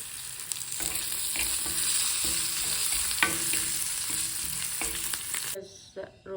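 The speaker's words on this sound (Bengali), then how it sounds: "এইখিনিও পূৰা কম জুইত ভাজি লওঁ" Ingredients for a fish pitika fry over a low flame with a continuous close sizzle and rhythmic spoon stirring strikes, ending abruptly as the sound cuts out, with no talking.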